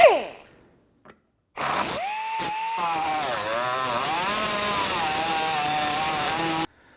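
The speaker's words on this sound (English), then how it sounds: "we're going to go ahead and cut these bolts off." Power tool cutting off rusted bolts on a 2004-2008 Acura TL fender liner, a brief whirring start and then a loud, sustained grinding whine with wavering pitch that stops abruptly.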